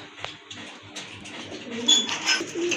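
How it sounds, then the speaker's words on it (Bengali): A pigeon kept for sale cooing nearby, a few soft low hooting calls amid light background noise and faint chirps. "এখন কবুতর খালি বেটিং করার জন্য গুম করতে আছে"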